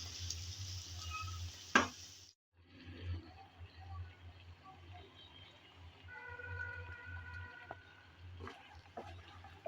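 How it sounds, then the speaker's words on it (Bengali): Crab pieces and potato chunks frying in a pan while being stirred, a steady low sizzle with scraping and clatter throughout, one sharp clink near the start and a brief pause before the cooking resumes. "কিছুক্ষণ সময় ধরে ভালোভাবে কাঁকড়া আর আলুটা কষিয়ে নিলাম।"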